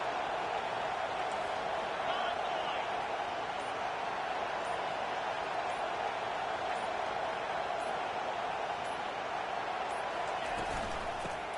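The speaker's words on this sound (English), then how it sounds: "Decibels rising as the crowd gets behind this defense on 3rd down." Stadium crowd noise from the college football video game NCAA 25, building on a defensive third down: a steady, broad roar of many voices holding at a constant level throughout, with no clear peaks or breaks.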